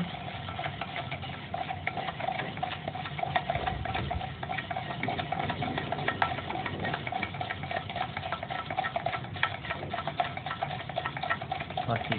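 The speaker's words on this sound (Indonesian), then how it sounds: "Lalu kita aduk sampai rata." Continuous stirring of AB mix hydroponic nutrient solution in half a liter of water, a steady swishing, scraping churn that runs without pause at moderate loudness, with a faint voice now and then.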